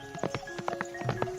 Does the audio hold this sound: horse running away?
yes